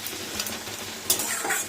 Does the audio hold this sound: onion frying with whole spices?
yes